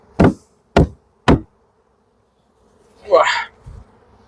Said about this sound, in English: So the majority of the bees have fallen out now.